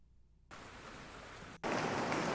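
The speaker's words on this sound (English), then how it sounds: "Where did I have some good rain?" A rain sample is auditioned in Ableton Live as a steady hiss of rainfall, first at a moderate level and then suddenly much louder and brighter for the final second.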